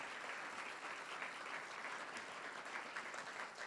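Audience applause for a professor at a book presentation, a steady dense wash of many hands clapping at a distance, fairly quiet and even throughout with no voices.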